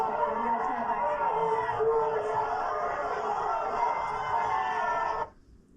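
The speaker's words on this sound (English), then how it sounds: "Congresswoman Elise Stefanik of New York, booed off the stage during an event in her home district on Monday" Large outdoor crowd at a congresswoman's event in her home district, a dense roar of many voices booing and jeering steadily for about five seconds before cutting off abruptly.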